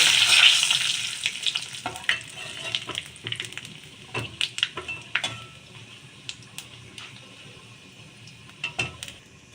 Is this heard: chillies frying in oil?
yes